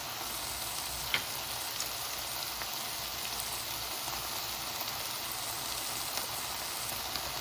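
Cooked ground meat frying in a pan for cottage pie with Worcestershire sauce added, giving a quiet, even sizzle that runs without a break, with a small clink near the start.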